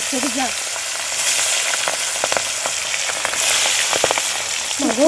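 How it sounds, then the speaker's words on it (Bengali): Boal fish frying in hot mustard oil in a wok, giving a loud, steady sizzle packed with crackles and spitting pops, with brief voice-like tones at the very start and end. "কড়াইতে তেল চেপে গেছে সর্ষের তেল মাছগুলো এবার ভাজবে"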